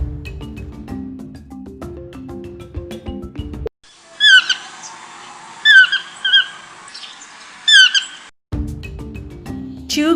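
A yellow-footed green pigeon calling, a few clear whistled notes in short repeated phrases, set between stretches of other sound.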